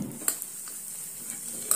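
Cut cashews sizzle softly in melted ghee for ragi semiya payasam, a faint steady frying hiss with a few light stirring clicks against the pan.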